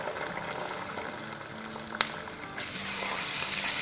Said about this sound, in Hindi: 30 सेकेंड हो गए जिंजर गार्लिक को सौटे होते हुए।